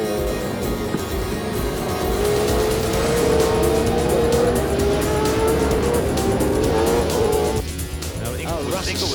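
A late-1990s Super V8 race car with its rear brakes locked skids and squeals through a crash, engine roar and tire scrub blending with crowd noise and a commentator talking throughout.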